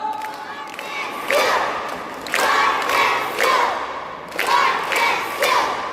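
An audience at a prayerful church gathering claps together in welcome, striking sharp unison beats roughly once a second. Loud crowd shouts swell between the claps.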